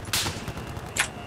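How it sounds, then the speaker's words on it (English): Gunfire in the Battlefield 4 video game, two sharp shots less than a second apart, fairly close and crisp, with no talking. "We're getting shot at."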